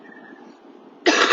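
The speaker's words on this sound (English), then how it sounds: "I still have this bad cough." A sick person's bad cough bursts out loud and close at the very end, a single harsh throaty hack after a quiet stretch of low room murmur.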